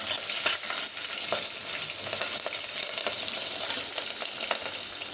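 Chopped green chillies sizzle in hot oil in a pan, a dense continuous crackle with frequent small pops and stirring sounds, close by and with no talking.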